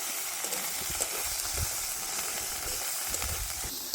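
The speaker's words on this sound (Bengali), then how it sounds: "ভালোভাবে মশলাটা ভেজে নিতে হবে।" A paste of ground onion, garlic and ginger with chopped chilli fries in a pan, giving a steady, dense sizzle and hiss with occasional soft stirring scrapes, close and continuous.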